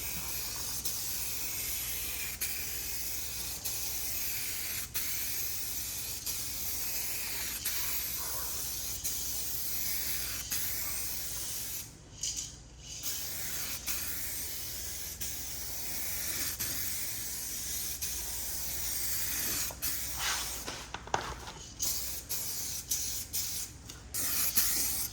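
Spray gun applying a second coat of paint over rust repair on a car body, a steady broadband hiss running continuously with two brief pauses around the middle and near the end.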